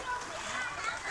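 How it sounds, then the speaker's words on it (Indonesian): Children splash and play in river water during a village fish-catching contest, with a continuous wash of splashing and shouting kids' voices filling the scene. "Mereka asik bermain air di sungai."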